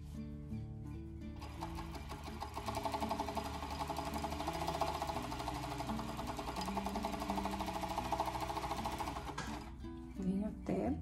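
A sewing machine stitching elastic onto child's underwear runs in a steady, rapid whir for most of the stretch, close and clear, then stops near the end with brief handling noise.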